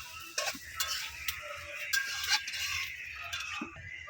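Potatoes are stirred and sautéed in a pan for a mixed-vegetable dish with dried fish. A utensil scrapes and taps irregularly against the pan, close and clear, over a soft, steady sizzle.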